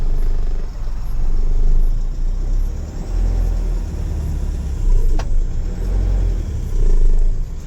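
A heavy goods vehicle, freshly rebuilt with a new body that adds about 1100 kg of weight, is driven downhill with its engine rumbling steadily and fairly close, the low droning continuous throughout with no talk.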